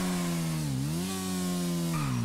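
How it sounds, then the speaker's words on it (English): A motorcycle engine in GTA Online drones loudly and steadily, its pitch dipping and rising as the rider eases off and accelerates again, with no voices over it. "but now I'm going to do it on my bike"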